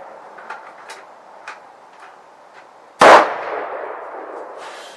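A 30-06 Remington Model 700 rifle fires a single loud, sharp shot that rings and decays, preceded by faint clicks and ticks.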